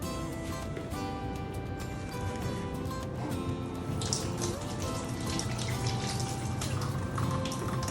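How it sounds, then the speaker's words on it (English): Hands are washed under a running tap, a faint steady stream of water splashing with soft irregular drips and patters, quiet and close. "Wash your hands."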